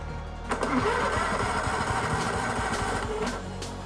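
A small racing lawn mower engine, just refuelled, catches and runs with a steady buzzing drone after a brief cranking burst, close and moderately loud throughout.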